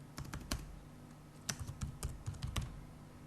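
Fingers type on a computer keyboard while filling in a form, irregular bursts of light clicking keystrokes with short pauses, close and fairly quiet, with no talking.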